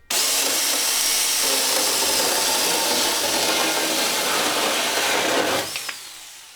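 A Huing mini chainsaw cuts through a wooden 2x4, giving a loud, steady high-pitched buzz and rasp for several seconds before the motor winds down and stops near the end.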